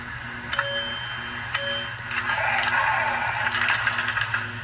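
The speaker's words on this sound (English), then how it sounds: "And you can hear it gong and hit the doors" An HO scale model PCC streetcar with a sound decoder: a small gong rings twice with metallic dings, followed by a mechanical whirring, clunking door sound over a steady low hum.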